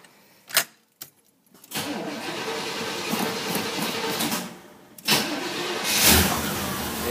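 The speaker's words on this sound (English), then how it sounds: "We'll start it up now." A 1981 Chevrolet Corvette C3, unstarted for several weeks, cranks in a few short bursts, then catches and settles into a steady, fairly loud idle, with a brief revving swell toward the end.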